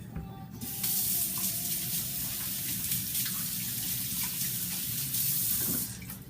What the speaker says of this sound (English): So first I need to wash my hands after touching that.